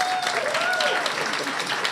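An audience claps for a themed-attraction option during a vote by applause, a short steady burst with a faint whistle-like tone over it.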